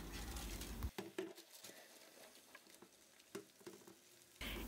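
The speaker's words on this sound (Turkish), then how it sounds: "Diğer tarafı da tekrardan kızartıyorum." Anchovies fry quietly between sheets of baking paper in a pan with a soft, steady sizzle and faint crackles, plus a few light clinks of a utensil.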